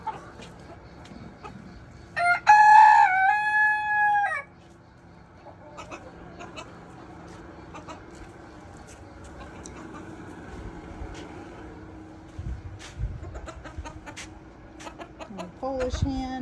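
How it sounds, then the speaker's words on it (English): A Polish hen on a farm lets out a loud, drawn-out crowing squawk up close, followed by quieter scattered clucks and small movements, with low background noise throughout. "Polish hen."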